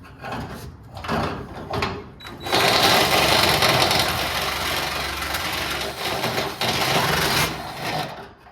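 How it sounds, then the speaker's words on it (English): A power drill pushes an oversized bit through metal while long tube headers are fitted to a 1978 Ford F100 with a 351 Cleveland. The drill starts in short bursts, then settles into a loud, continuous straining grind. "I don't know if this drill bit's even gonna work in my drill."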